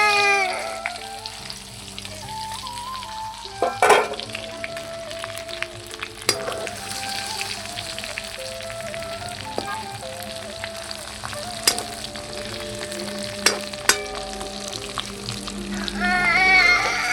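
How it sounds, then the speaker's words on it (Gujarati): Stuffed eggplants fry in a hot oil tempering with a continuous crackling sizzle, occasional sharp clatters of utensils against the pot, and a louder burst of sizzling toward the end. "વઘાર રેડી થઈ ગયો છે, હવે આપણે રીંગણા નાખી દઈએ"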